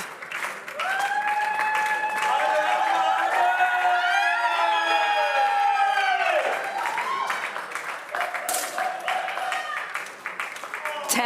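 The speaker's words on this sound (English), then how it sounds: "The crowd is pretty loud." Spectators at a women's 10m air pistol World Cup final in Bhopal, India, clapping and cheering loudly, with whoops and raised voices swelling over the crowd noise before easing into scattered applause.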